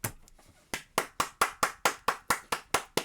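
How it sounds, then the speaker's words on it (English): A steady round of hand claps, about a dozen sharp even beats, starts after a brief quieter lead-in and continues clearly and loudly without talk. "Everybody clap for the Cum Worm!"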